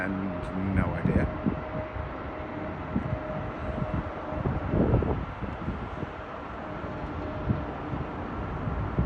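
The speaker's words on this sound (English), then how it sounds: "And behind there's an A350, and that's coming in from Las Vegas" An Airbus A350 airliner inbound from Las Vegas approaches Heathrow with a steady broad engine roar that rises and falls, heard from a distance beneath people talking.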